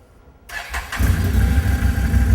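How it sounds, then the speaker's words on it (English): A four-wheeler ATV engine, freshly filled with new oil, cranks briefly and then catches, settling into a loud, steady running rumble close by. "With the new oil in, start the engine and let it run for a few minutes."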